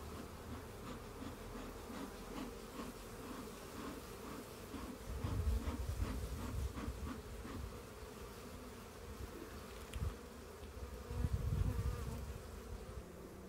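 Honey bees buzz steadily around an open hive as the crown board and roof go back on after a frame inspection, a dense droning hum that swells louder at moments.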